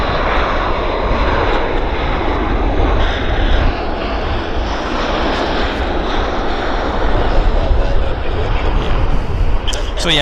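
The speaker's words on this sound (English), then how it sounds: "we've got an A321 coming in here, and it's like just feet above the runway" An Airbus A321 comes in to land just feet above the runway at Vancouver airport, its loud, steady engine roar filling the whole stretch with a broad rush of noise.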